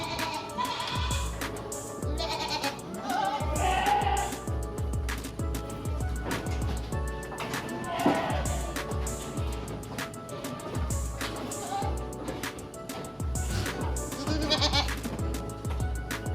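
Goats of several dairy breeds, including Saanen, Alpine, Sable and Jawa Randu, bleat repeatedly on a dairy goat farm, many overlapping calls near and far in an irregular, busy chorus with no talking.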